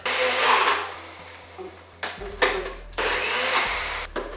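A blender whizzes up broccoli for egg frittata muffins in short loud bursts that start and stop several times, nearby, with a low motor hum between and some background noise.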